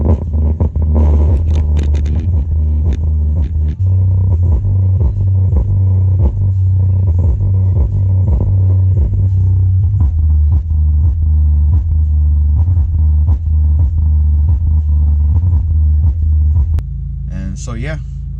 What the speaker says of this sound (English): I've been having issues with the car, or with the subs not playing. They kind of go intermittent.